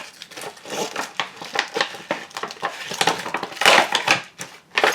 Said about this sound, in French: Tu vas t'amuser avec le scotch.